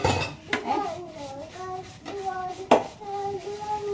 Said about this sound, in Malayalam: അമ്മ ഈ പാത്രം കഴുകി വെക്കട്ടെ കേട്ടോ.